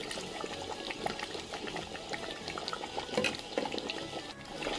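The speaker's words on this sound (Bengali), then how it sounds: "ওটাকে দিয়ে দিচ্ছি পানিটা" Water is poured into a pot of beef rezala with nuts, raisins, nutmeg and mace, giving close splashing and sizzling bubbling that fluctuates throughout.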